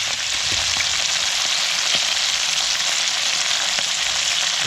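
Whiting fillets and spring onions sizzle steadily in a hot pan, a continuous close, bright frying hiss with faint crackles, no voices.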